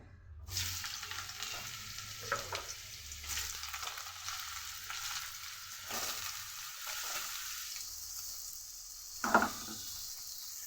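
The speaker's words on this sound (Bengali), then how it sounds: "আমার তেল গরম হয়ে গেছে এর মধ্যে দিয়ে রাখবো আলু" Potatoes fry in hot oil, starting with a sudden burst of loud sizzling that settles into a steady crackling hiss, with a few clinks and a sharper clatter near the end, close up and without speech.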